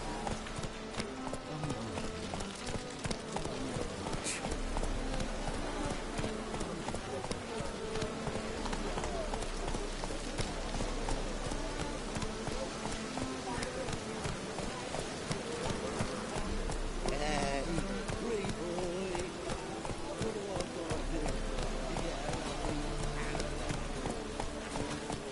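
Roach the horse gallops in The Witcher 3, a steady rhythmic clip-clop of hooves running on and on under ambient game sound, with brief talk in places.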